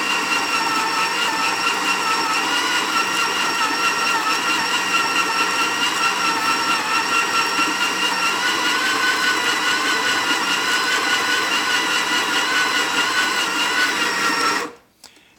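A coffee grinder grinds beans for a Gaggia Classic espresso machine, giving a loud, steady high-pitched whir that runs unbroken for about fifteen seconds and then cuts off abruptly.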